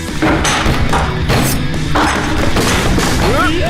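A drum set being smashed, with loud booming hits and crashing thuds repeated at intervals, close and forceful, with brief voices in between.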